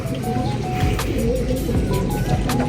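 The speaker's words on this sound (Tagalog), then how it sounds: "Ito na, pangalawang ibon natin, si Cooper." Racing pigeons coo softly over a steady outdoor background hum, with a few brief higher calls scattered through.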